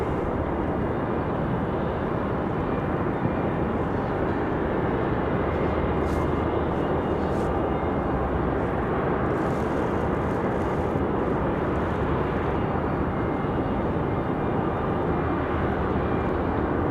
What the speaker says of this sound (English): we do have that Republic Airways back to Philadelphia entering the runway